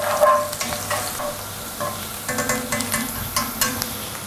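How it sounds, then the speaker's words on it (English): Onion frying in a pan while being stirred, a continuous close sizzle broken by irregular scraping strokes of a utensil against the pan, with no speech. "So mix again our onion."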